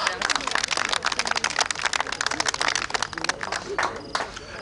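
Studio audience clapping together at a television show results ceremony, dense and steady applause continuing throughout at moderate loudness with no voices over it.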